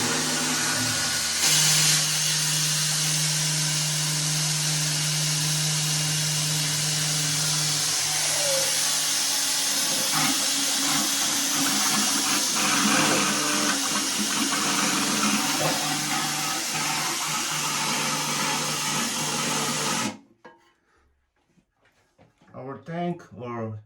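A pump drains water from a toilet tank, a steady hissing, gurgling drone with a low hum that runs loudly for most of the stretch before stopping abruptly, leaving quieter room noise.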